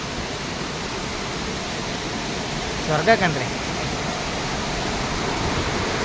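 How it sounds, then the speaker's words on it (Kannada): Water rushes between boulders near Bhimeshwara temple close to Jog, a loud, steady, close roar that fills the whole stretch, with someone speaking briefly over it partway through. "ನೋಡಿ, ಕಲ್ಲು ಬಂಡೆ ಮಧ್ಯದಲ್ಲಿ ಬರ್ತಕ್ಕಂಥ ನೀರು"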